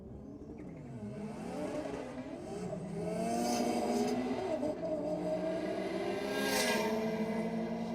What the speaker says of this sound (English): The little Mazda's motoring at the top end of the racetrack.